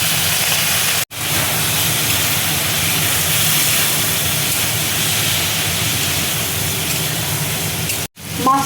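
Water splashed into Kashmiri chili powder and spices frying in a pan for a morola fish curry gives a loud, steady hiss of sizzling steam, broken by two brief cuts.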